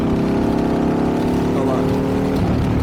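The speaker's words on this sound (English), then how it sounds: "can you guys hear this exhaust? It's crazy though" A 2024 Harley-Davidson Pan America motorcycle fitted with a Toce exhaust rumbles steadily and close, its deep burbling tone holding throughout with a slight shift in pitch near the end.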